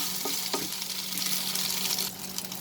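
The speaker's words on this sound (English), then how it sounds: "We'll saute it for a minute." Green chilies sauteing in a hot pan for a long beans and chicken dish, a steady broadband sizzle with occasional stirring scrapes, close and continuous throughout.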